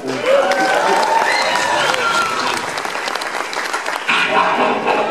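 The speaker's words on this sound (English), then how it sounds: "Give a round of applause for Grimlock." A crowd at a Transformers anniversary panel with Dinobots at Universal Studios bursts into sustained applause with a few cheers mixed in, loud and continuous, with a brief lift in intensity near the end.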